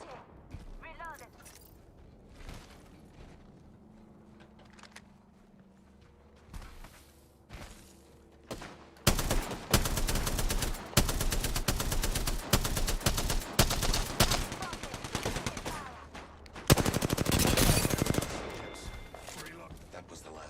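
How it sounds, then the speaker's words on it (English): Bursts of automatic and single-shot gunfire in the Apex Legends video game, loud rapid volleys after a quieter stretch of footsteps and ambience, with a brief lull and then another dense, intense burst near the end. "Shooting"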